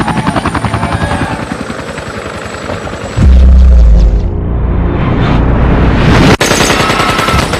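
A helicopter's rotor thuds rapidly and loudly, then a deep roaring rumble swells in with a sharp bang near the end.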